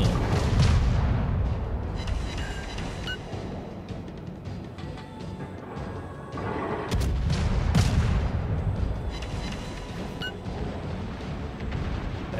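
Naval gunfire in World of Warships, with the Omaha cruiser taking concentrated fire: repeated heavy booms and artillery blasts rumble loud and continuous across the whole stretch, with bursts of low thunder.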